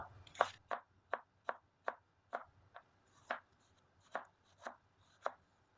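A knife chops vegetables such as cucumber on a cutting board while plating a hotel-style breakfast: about thirteen crisp, close strikes in a steady, unhurried rhythm over a quiet kitchen.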